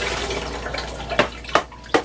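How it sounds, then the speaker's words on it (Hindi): Strained yakhni broth poured into a pot of sautéed rice, a close watery splashing stream that ends in three quick louder gushes. "अब यहाँ पर हमने यखनी डालनी है, तो यखनी हम थोड़ी सी छान के डाल देते हैं"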